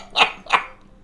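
A puppy gives two short, sharp barks in quick succession, close and fairly loud, followed by quiet.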